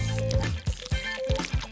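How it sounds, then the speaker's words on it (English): Nail polish is dribbled in a zigzag into a container of water, making a series of soft drips and small plops at an uneven pace against a steady background tone. "Nail polish can do more than paint nails. Dribble some into water."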